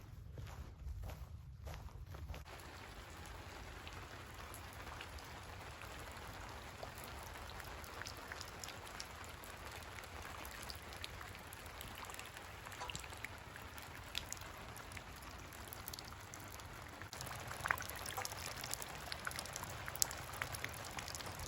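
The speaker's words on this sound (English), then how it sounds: "Kind of have to set things up a little bit differently when it's pouring rain." Heavy rain pours down at a campsite in a constant dense patter and hiss. It stays steady and close throughout, with no talking.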